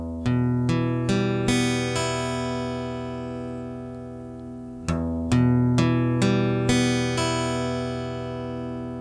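An acoustic guitar chord is picked one string at a time, each note ringing on over the others, then the same sequence repeats after a pause; close, clear and alone with no talking.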